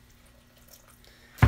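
Water poured into a grout mix lands as a short, loud splash right at the end, after a quiet start.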